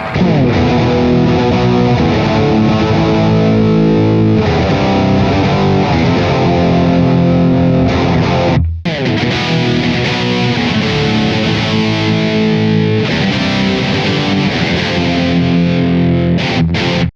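Heavily distorted electric guitar through a Bogner amp's blue channel with boost engaged, loud sustained chords ringing continuously with one brief cut midway, no speech.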